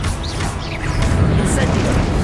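Spell combat in Hogwarts Legacy with a Confringo explosive blast: a dense, continuous crackle of booming, crashing magic effects layered over a low rumbling game score, steady and loud throughout.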